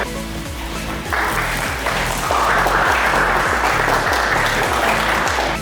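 An audience applauds at the unveiling of a styling kit for a Tata Hexa, a steady round of clapping that swells after the first second and stays loud, heard over a low rhythmic music beat.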